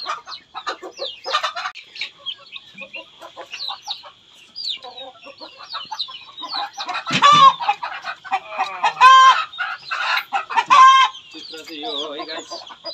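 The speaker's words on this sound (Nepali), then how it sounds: "अब यहाँनिर कुखुरा छ।" Chickens clucking close by in a series of sharp, varied calls, some drawn-out and tonal, coming in irregular bursts over quiet background.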